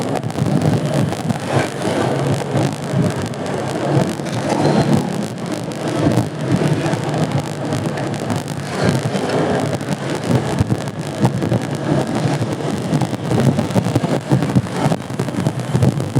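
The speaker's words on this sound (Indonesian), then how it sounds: "Wah, hujan udah semakin lebat ini." Heavy rain pours steadily through a wet motorcycle race in Madiun, a dense continuous roar with gusty wind buffeting the microphone and a low rumble underneath, no talk.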